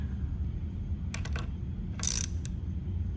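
An alternator bracket bolt being snugged with a ratchet, heard as a few quick metallic clicking bursts up close over a low steady hum, with no talk.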